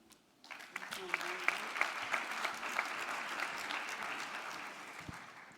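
After a brief quiet moment, an audience at a 2019 health summit breaks into sustained applause, with individual claps standing out above the steady wash as it gradually thins toward the end.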